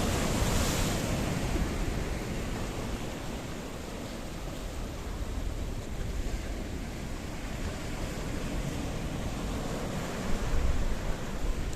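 Sea waves breaking on the rocky coast at Paphos, Cyprus, a continuous loud surf wash mixed with wind buffeting the microphone, swelling slightly near the end.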